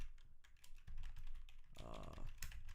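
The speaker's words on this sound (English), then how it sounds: "Why am I typing it in English?" Rapid keyboard clatter from someone typing on a computer keyboard while playing Lost Ark, with a voice speaking over stretches of the keystrokes at close range.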